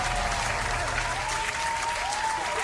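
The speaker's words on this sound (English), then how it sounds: "let's give a round of applause to the AI for that" Steady applause from a crowd, dense clapping that holds at an even level throughout without a break.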